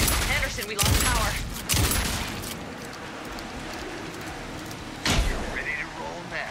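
Gunfire in the video game Alan Wake 2, a few loud bursts near the start and another around five seconds, over a dense, rumbling game soundscape with some voices mixed in.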